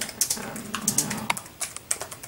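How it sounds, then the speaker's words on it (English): Keys tapped on a computer keyboard while working in the MS-DOS editor, a loose run of quick close clicks with short pauses, no talk. "I am now typing."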